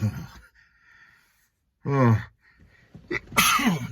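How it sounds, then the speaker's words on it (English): A single sharp sneeze bursts out after a quiet pause, preceded by a soft breathy intake and followed by a brief exclamation. "I had to sneeze."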